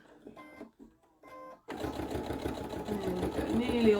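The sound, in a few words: sewing machine top stitching a baby taggie toy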